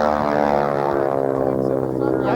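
A World War II-era propeller trainer airplane drones steadily overhead at the 1993 Quonset Point air show, a loud, even engine hum that fades slightly as it passes, with a voice faintly audible beneath.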